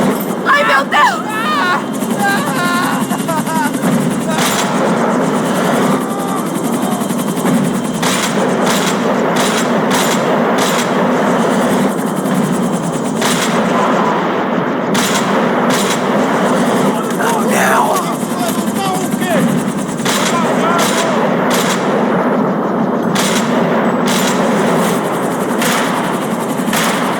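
In Max Payne 3, dense rapid gunfire rattles at a helicopter in repeated bursts over a constant loud roar of engine and rotor, with voices shouting throughout.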